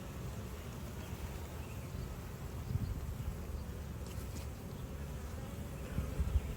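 Honeybees buzz around an open hive during an inspection, a soft steady droning hum of many insects close by, with faint handling noise and no clear talk.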